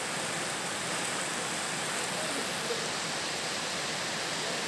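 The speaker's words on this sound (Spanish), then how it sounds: "De un momento al otro caerán lluvias como estas." A heavy tropical rain shower in the Philippines, a steady loud hiss of downpour with no breaks, even and enveloping throughout.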